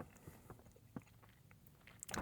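Someone bites into and chews an apple up close, producing a few soft crunches and moist chewing sounds at an uneven pace, faint and intimate, ending in a sharper burst of crunching.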